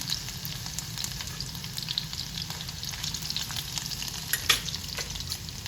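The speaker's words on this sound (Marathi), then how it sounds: "मग आपण लसूण घालूया." Garlic frying in hot oil in a pan gives a steady, close sizzle with faint crackles throughout and a slightly louder pop near the end, with no talking.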